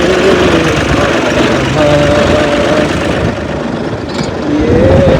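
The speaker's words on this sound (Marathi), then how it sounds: "आता मी चाललो ट्रॅक्टर घेऊन उन्हात आणायचे" Farm tractor engine running steadily, a loud continuous rumble close by, with faint background voices.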